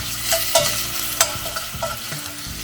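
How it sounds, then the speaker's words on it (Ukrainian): Chicken wings fry with onion in a pan, giving a steady sizzle with a spatula scraping and stirring at intervals. The sound is close and there is no talk. "я підсмажив трохи цибульку і кинув до цибульки наші крильця"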